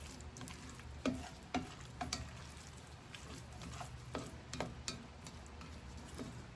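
A spoon stirs flour into a hot pan for crawfish Alfredo, quiet sizzling broken by a series of sharp scraping clicks and taps at irregular intervals, close and faint, with no talking.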